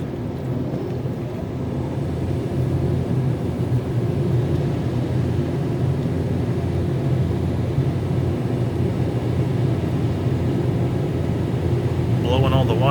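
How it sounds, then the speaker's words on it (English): Car wash air blowers drying a car at a BP car wash, a steady loud roaring rush of air heard from inside the car, continuous and unbroken throughout. "Yep, there comes the blowers."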